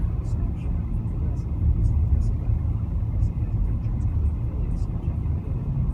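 A car cruising along a road in Hawaii between Kailua and Kealakekua, with a steady low engine and tire rumble heard from inside, continuous and fairly loud, while someone talks over it.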